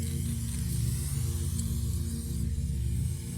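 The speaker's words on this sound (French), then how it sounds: "quand on utilise la bombe d'une manière conventionnelle, c'est beaucoup plus calme" An aerosol spray paint can hisses steadily and close up as it paints artwork on a train, a continuous broadband spray over a low hum with no breaks.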